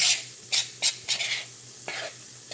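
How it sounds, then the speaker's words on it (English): Crackling bread fries in a pan of hot grease, giving a steady close sizzle broken by a few sharp spattering pops and stirring scrapes, with no one talking. "So you see it sizzling."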